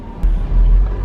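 A cheap salvage Porsche Boxster pulls away in first gear, a short low engine rumble swelling as it moves off, with a faint click near the end.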